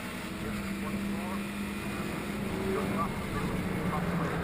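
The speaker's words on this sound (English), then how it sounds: "just listen to that little engine pulling it towards the hairpin here" Small engine of a classic sports or saloon racing car droning steadily as it pulls toward a hairpin at a Scottish circuit, a continuous mid-distance hum that swells slightly near the end, with a commentator talking over it.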